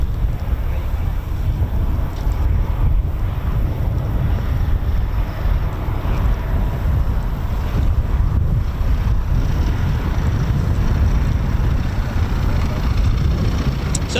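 Wind buffets a microphone outdoors at RAF Coningsby, a continuous loud low rumble with gusty surges that never lets up, no other sound standing out.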